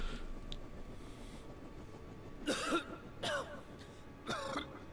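Several short, raspy coughs from a character in Dead Rising 3, separated by brief pauses over a quiet background hum.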